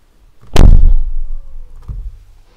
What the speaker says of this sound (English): Amazing sound when the G-Class doors close.